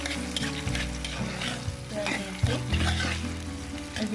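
Whole spices frying in a generous amount of oil for beef tehari, a close, crackling sizzle with stirring clatter.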